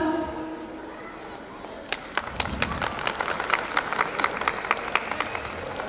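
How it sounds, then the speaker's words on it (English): Audience applause for student achievers at a school annual gathering, starting faint and swelling into steady, dense clapping from a seated crowd in a hall, with some chatter at the start. "Let's give a big round of applause to all the achievers"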